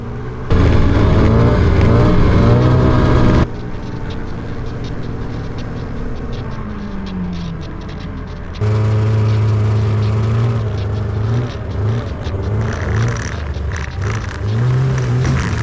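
Snowmobile engine running loud and close on ice, a steady mid-pitched drone with rising revs, cutting off briefly before starting again; no talking.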